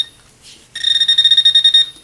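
A Garrett AT orange pinpointer metal detector beeps in a rapid, evenly spaced run of bright electronic tones after a short quiet pause, close and clear with no talking.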